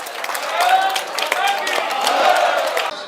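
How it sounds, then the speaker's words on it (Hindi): A crowd at a political rally claps steadily and loudly to welcome a speaker, with dense applause and some cheering running through the whole stretch. "जोरदार तालियों के साथ उनका अभिनंदन करें"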